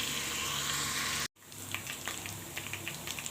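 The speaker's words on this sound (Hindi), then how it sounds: "हमारे प्याज माशाल्लाह ब्राउन हो रहे हैं" Onions browning in a pan for chicken kofta, a soft, steady sizzle with a brief cut of silence partway through, then resuming with scattered pops and crackles.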